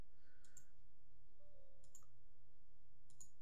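Mouse clicks on a computer while stepping through a Windows software setup installer, three faint, brief clicks spaced about a second and a half apart over a low steady hum.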